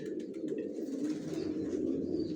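Racer pigeons coo in low, soft, rolling calls close by, a continuous murmuring with faint higher chirps scattered over it and no one speaking.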